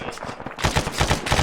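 Covering gunfire in ArmA, a quiet lead-in giving way to a rapid, loud string of evenly spaced shots.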